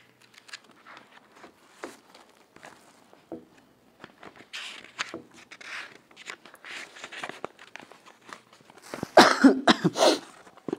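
A man coughs repeatedly from a cold, scattered dry coughs and throat clearing near the microphone, building to a louder burst of harsh coughing near the end.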